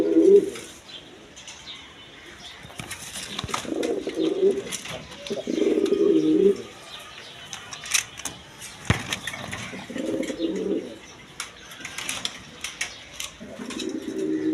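A pair of red king pigeons coo in low, throaty bursts, about five separate calls spaced a second or two apart, close by against faint background noise.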